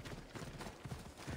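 Horse hooves clip-clop at a steady trot in the video game Assassin's Creed Odyssey, a fairly faint, even rhythm of repeated hoofbeats with no talk over them.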